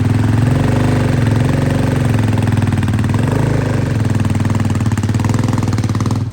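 A motorcycle engine runs steadily nearby, a loud low chugging idle with a rhythmic pulse that dips slightly before cutting off at the end.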